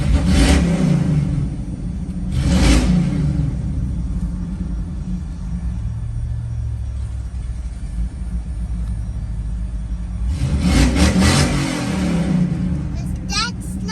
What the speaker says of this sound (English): I'm probably gonna do a burnout if it'll do one